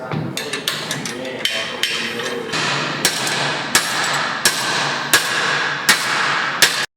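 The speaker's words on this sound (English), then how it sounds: "So what I have to do now is I have to beat that back into place" Metal hammering on a Jeep's weak, damaged weld area, beating it back into place: a run of sharp, loud, ringing blows, about a dozen over several seconds, close by with no talk.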